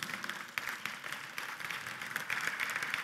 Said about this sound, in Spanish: Damos un fuerte aplauso a nuestro Señor Jesucristo.